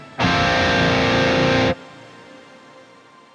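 Electric guitar chord through a shimmer reverb, held loud for about a second and a half with a bright octave-up sheen, then cut off into a faint lingering tail.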